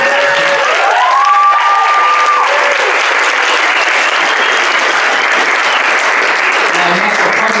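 Loud applause and cheering from a crowd at a build day closing ceremony, with a brief whoop near the start, then a sustained wash of clapping and voices.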